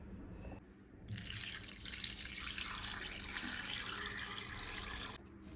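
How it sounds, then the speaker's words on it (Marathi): Running tap water pours over mutton being washed, a steady hiss and splash that starts after a brief trickle, holds for about four seconds, then cuts off, close and moderately quiet. "तर हे मटण आपण स्वच्छ असं 3 ते 4 वेळा धुवून घेऊया"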